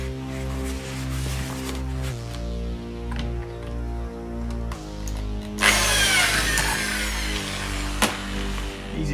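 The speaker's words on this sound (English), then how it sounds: "it's the only way I was able to drill effectively" Power drill boring pilot holes, with a bit one millimetre smaller than the screws, to mount M-Performance side spats on a BMW M2; a steady hum runs throughout, and a louder, harsh bite near the end as the bit cuts through.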